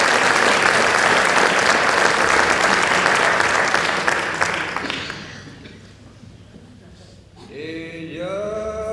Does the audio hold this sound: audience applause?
yes